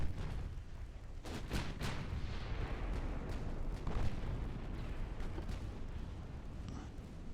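Naval guns fire in the Ultimate Admiral: Dreadnoughts video game, with a cluster of heavy booms early on and another deep blast later, rolling over a constant low rumble of sea and engines.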